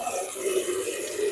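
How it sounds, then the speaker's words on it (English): Running water from a tap steadily filling a basin for bedside perineal care, a continuous close splashing rush with no talk over it. "And now I'm just filling the basin with water."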